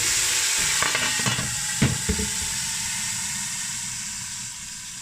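Onions fry in a pan with a steady broad sizzle and hiss, while a few soft scraping stirs come through near the start, close and alone without talk.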